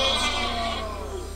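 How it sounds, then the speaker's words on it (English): A cartoon sheep in the video game Worms lets out a loud, wavering bleat whose tone slides downward and fades over about a second, heard alone. "Oh my god, there's a sheep there."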